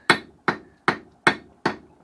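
Six sharp, evenly spaced hammer blows ring out on 3/8-inch round steel stock being forged into a wall hook, each strike bright and metallic with a short decay, loud and close with no talk.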